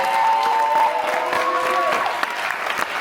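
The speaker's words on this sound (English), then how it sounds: "so y'all give her a round of applause." Applause from an audience at an award celebration, dense clapping with a few cheers and voices mixed in, loud and close, easing slightly toward the end.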